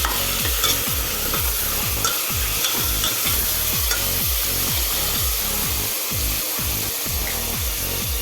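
Chicken is worked together with turmeric by hand, giving a fast, regular run of squelching, rubbing strokes that repeats close up for several seconds with no talking.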